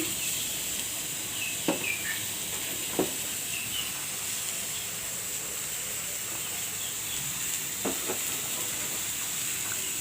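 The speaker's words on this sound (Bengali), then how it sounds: "তো আমি কড়াইতে এখন পেঁয়াজ দিয়ে দিচ্ছি" Onions dropped into a hot wok give a steady, close hiss of sizzling that lasts throughout, with a few faint clicks and knocks of utensils on top and no talking.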